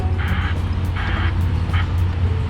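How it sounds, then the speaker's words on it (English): A dump truck's heavy engine idles with a low, steady rumble while it is loaded at a retaining wall demolition site, with faint hissing bursts at regular intervals over the drone. "We got dump truck over here,"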